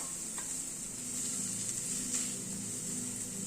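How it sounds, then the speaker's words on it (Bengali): Chopped onion, ginger and small green chillies fry in a pan over a medium gas flame, giving a steady soft sizzle with faint stirring scrapes, close and continuous, no voices. "আদা, পেঁয়াজ, কাঁচা লঙ্কা সবকিছুকে একসাথে ভেজে নেব।"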